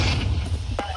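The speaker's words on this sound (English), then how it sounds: "Flashbang." A flashbang grenade goes off in Counter-Strike 2 as one sharp burst near the end, over a steady low game hum.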